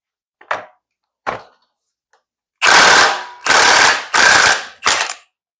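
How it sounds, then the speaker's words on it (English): Ratchet wrench loosening the drive sprocket nut on a Harley-Davidson Sportster during a belt-to-chain conversion: two short faint clicks, then four loud sustained bursts of rapid ratcheting, close up with no talking. "Turn the drive sprocket nut clockwise and remove it from the main drive gear shaft."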